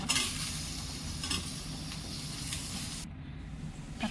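Tomatoes go into a pan of onions fried until brown for a sundal gravy. A steady, soft sizzle and hiss continue for several seconds, with a few stirring scrapes and no talk.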